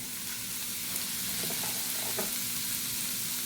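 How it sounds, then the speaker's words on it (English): Chorizo fries in a pan without oil, a steady close crackling sizzle throughout with a few faint scraping stirs and no talk. "So now let's cook the chorizo."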